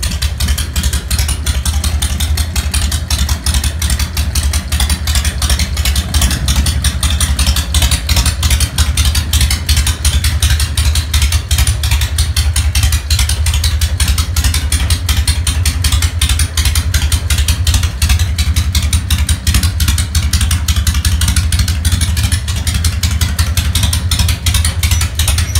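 Two full-size Harley-Davidson motorcycle engines idle in a low, steady rumble that holds without a break for the whole stretch, loud and close.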